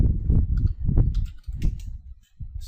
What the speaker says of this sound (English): So I'll just type my config.